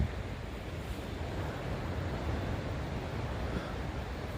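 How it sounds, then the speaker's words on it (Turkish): Steady broadband rush of sea surf from some distance below, heard from under trees near İnebolu, Turkey, a continuous wash with no distinct breaks and no voices. "Aşağıdan deniz sesi geliyor ama olsun."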